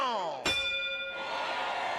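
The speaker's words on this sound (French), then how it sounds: "Le gong vient de résonner." A single gong struck at the start of a match in a One Piece fighting video game: one sharp metallic hit over a sustained ringing tone that fades into a crowd-like wash of game sound.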